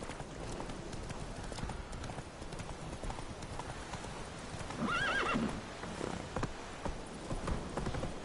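Horse hooves clip-clop steadily while the horse gallops in The Witcher 3 video game, with a clear whinny rising over the hoofbeats midway through; continuous game ambience underneath and no talking.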